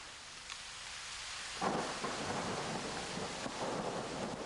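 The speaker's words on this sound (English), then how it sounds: "Often in the afternoon, there are thunderstorms accompanied by a sudden drop in the temperature." A thunderstorm with steady rain hisses evenly on surfaces, and midway a low rolling rumble of thunder swells and lingers under the downpour; the sound is moderately distant and stays fairly quiet throughout.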